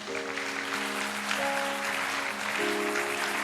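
A congregation applauds during a church service, a steady wash of clapping with a sustained tonal drone from music underneath, moderately distant and even throughout.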